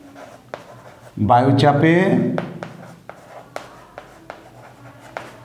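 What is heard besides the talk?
writing notes during a lesson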